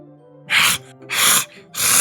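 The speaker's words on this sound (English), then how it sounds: "It sounds like breathing. Hee-hoo, hee-hoo. A sharp inhale" Three sharp, forceful inhales from a character in the visual novel Doki Doki Literature Club, each a breathy rushing gasp about half a second apart, close and alone.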